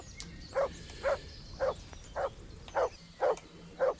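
Dog barking in the medieval Bohemia of Kingdom Come: Deliverance, eight evenly spaced single woofs about half a second apart, moderately close over a quiet ambient background.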